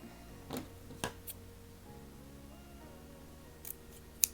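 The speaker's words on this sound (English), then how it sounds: "I'm going to do the same thing with this one, just a little snip" Scissors snipping a fabric strip for a rag rug, a few small crisp cuts close by against a quiet background, with light ticks and a final sharp snip.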